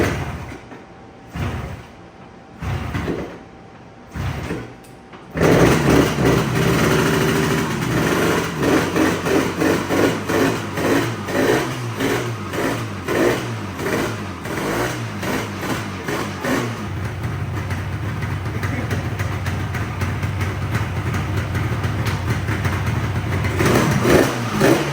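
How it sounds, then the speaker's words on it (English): A Yamaha RD350 two-stroke motorcycle engine, abandoned for ten years, sputters a few times, then catches and runs loud, revving up and down in rough bursts before settling into a steady buzz. "see if we can get this motorcycle to turn over and start and stay running"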